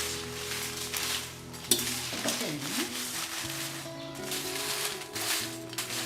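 Pan scraping and stirring clatter over a steady dry sizzle of chillies dry-roasting in a pan, with occasional metallic knocks and faint background voices.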